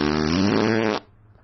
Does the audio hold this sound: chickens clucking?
no